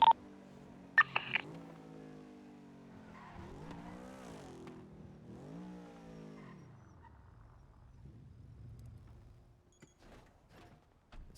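A car in a GTA roleplay game drives with rising and falling engine revs, then a low rumbling skid near the end, with a few sharp clicks, heard alone with no talk.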